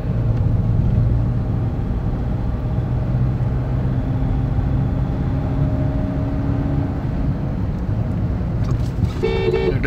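A Skoda Monte Carlo cruising in fifth gear at about 60 gives a steady low engine and road rumble from inside the cabin, unbroken throughout, with a faint short tone near the end.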